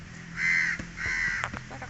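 Two loud, close crow caws sound in Bhutkhel Tokha park during a morning walk, each a harsh drawn-out call, followed by faint background noise.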